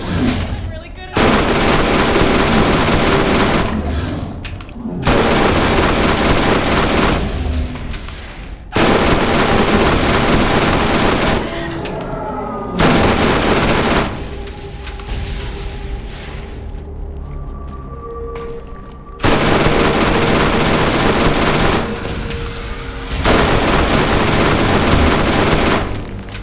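SMG gunfire in Borderlands, a Dahl weapon in the Arid Badlands, comes in loud, dense automatic bursts of several seconds each, separated by short quieter gaps.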